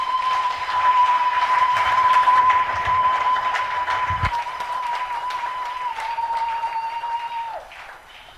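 Church congregation clapping in a French-speaking worship service, dense sustained applause with a steady tone ringing through it, fading slightly toward the end.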